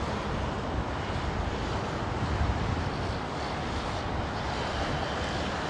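A long-haul airliner at Heathrow Airport gives a constant, broad engine roar with a wind-like hiss, steady and unbroken across the few seconds.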